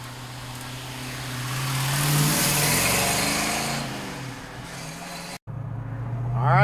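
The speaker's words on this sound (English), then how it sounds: "let's take the 73 Mustang Q-code for a ride" A 1973 Ford Mustang Q-code with a 4-speed gearbox drives along, its engine note swelling and easing through a gear change, then picking up again near the end.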